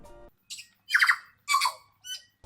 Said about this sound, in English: It's an incredible opportunity to see rare and endangered birds up close, like this tui for example.